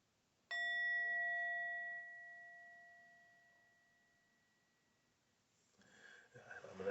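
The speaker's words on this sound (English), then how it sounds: "I'm going to ring the bell." A single bell or chime struck once in a quiet room, ringing with a clear, steady pure tone and bright overtones that slowly fade over several seconds before faint movement sounds return.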